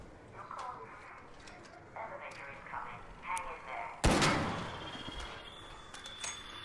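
A single heavy gunshot from a slow-reloading video game weapon cracks loudly after some quieter game sounds, followed by a brief decaying tail, with a person talking.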